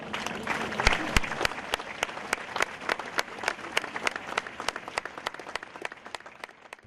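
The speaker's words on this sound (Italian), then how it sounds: "si sono sciolti in un lungo applauso al passaggio della bara" Mourners at a funeral give long applause as the coffin passes, distinct claps falling in a steady rhythm, heard from a distance and fairly quiet.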